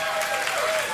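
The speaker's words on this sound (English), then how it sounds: "this audience, the studio audience tonight, were so happy when that happened because they got to clap a little more" A studio audience applauds in a dense, steady burst of clapping that fills the whole moment, loud and close, with a voice faintly mixed in.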